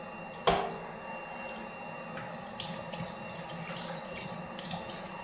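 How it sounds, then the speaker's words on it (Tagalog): Tap water runs steadily into a sink while a baby bottle is washed, with a sharp clatter near the start and a few small knocks from handling over the continuous flow, close by, with no talking. "maghugas muna ako sa bottle ni Caleb"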